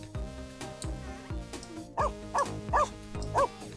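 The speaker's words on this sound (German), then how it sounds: "Ja, entspann dich, Hund." Dog barking in The Sims 4, a run of short barks at a steady pace over background game music, fairly close and clear.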